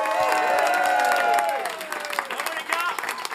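A crowd applauds the winners at the Hack'n Wow 2023 hackathon. Clapping and scattered cheers run under nearby speaking voices, loud at first and then thinning into uneven bursts.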